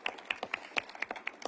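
Sparse applause at a mayor's news conference: a handful of hands clapping in a loose, uneven rhythm, about ten distinct claps over a moment, faint and fairly close.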